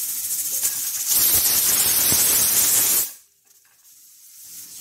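A pressure cooker on a gas stove lets out a loud, close, breathy hiss of steam that swells for about two seconds and then cuts off abruptly, leaving near silence.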